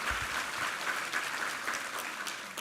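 A church congregation claps together during a Sunday family worship service, a steady, dense wash of applause that holds evenly for a few seconds.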